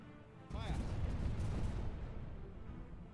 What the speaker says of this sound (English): it's got to be normal cannons.